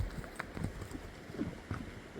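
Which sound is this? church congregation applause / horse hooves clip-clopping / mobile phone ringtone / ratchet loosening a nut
horse hooves clip-clopping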